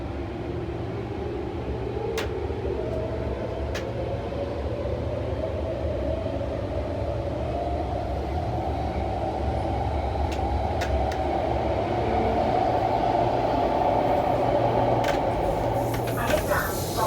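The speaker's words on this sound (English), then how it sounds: "Finally, the train is leaving." An MTR Airport Express A-Train pulls away from the platform in Hong Kong. Its deep, continuous rumble builds gradually as a rising motor whine climbs in pitch, with a few brief clicks and knocks along the way.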